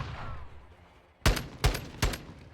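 Gunfire sounds in a Call of Duty esports match, shots fired through a wall: three sharp, loud bursts, each a quick double crack, spaced about half a second apart after a quiet stretch.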